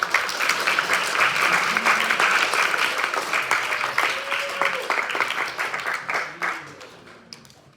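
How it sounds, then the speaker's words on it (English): An audience at a sustainability forum gives a speaker warm, steady applause that gradually thins out and fades toward the end, with faint voices underneath. "Let's give a round of applause to Mr. Awi Sufyan from Tree Lake Farm."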